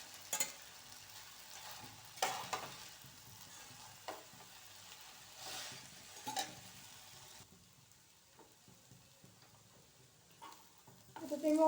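Boiled Hakka noodles with soy sauce and vegetables being stir-fried in a pan, a soft low sizzle with intermittent clanks and scrapes of utensils tossing, fairly quiet and close.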